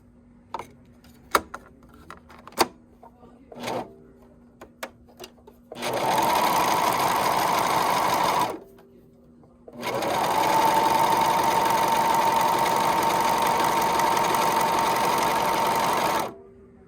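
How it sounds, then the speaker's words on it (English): A Juki MO654 serger sews a rolled hem in two runs, a short burst of about three seconds and then a longer one of about seven. Each run is a steady, close, mechanical whir with nothing else over it, after a few light clicks. "I just sewed it through because pulling it through it's kind of hard sometimes"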